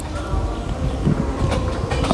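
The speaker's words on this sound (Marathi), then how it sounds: "इंदोर कोचुवेली एक्सप्रेस आहे ही." Indore–Kochuveli Express train at Kankavli station, a steady rumble of rolling carriages with rail noise and wind, heard close and continuous throughout.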